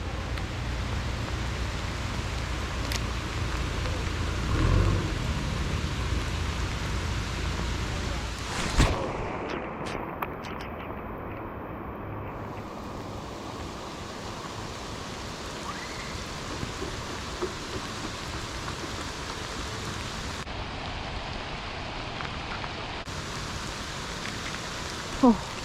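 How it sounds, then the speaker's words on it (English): Rain falling outdoors during a fishing trip, a constant hiss with occasional drop ticks and a few brief knocks, steady in level, with some muffled talk. "Raining."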